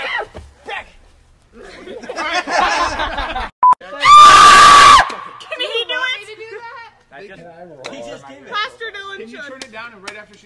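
A woman's loud, sustained scream bursts out for about a second amid excited children's chatter and shouting, with talk continuing before and after.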